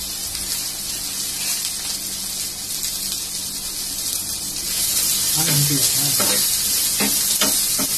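Dosa batter with onion poured onto a hot pan, a steady bright sizzle that grows louder partway through, with several sharp scraping knocks near the end.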